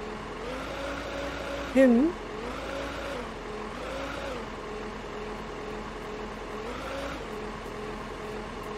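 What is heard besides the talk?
vehicle driving with engine running in video game Beer Factory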